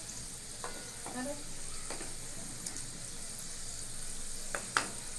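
Semolina and khoa gujiya fry gently in hot oil over a low flame, a soft steady sizzle broken by a few light clinks and scrapes of stirring.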